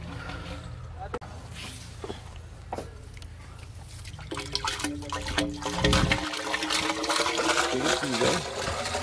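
Water is poured into a hand-drilled bore well after the clamp is fitted, giving gurgling, splashing and dripping that swells toward the end. Voices talk over it in the background, and there are scattered knocks.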